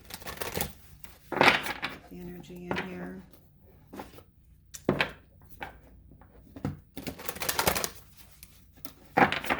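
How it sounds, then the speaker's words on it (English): Tarot cards being shuffled by hand in a quiet room, with soft intermittent riffles and taps in short bursts and a few spoken words in between. "I always like to shuffle a little bit more."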